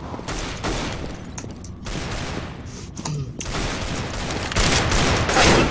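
Video game gunfire from an AWP and an AK rattles in a warm-up headshot deathmatch, with dense overlapping shots and bursts going on continuously from several players.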